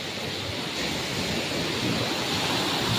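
Sea waves wash onto a shore in a steady, broad roar of surf that swells slightly toward the end, with a windy hiss over it and no voices.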